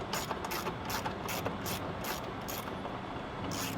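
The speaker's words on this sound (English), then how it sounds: "Now we're going to remove the 2 13mm bolts holding the airbox down." A hand ratchet loosens the 13mm bolts holding down the airbox on a 2010-2016 Ford F-150, giving a close, steady run of rapid clicking strokes with brief pauses.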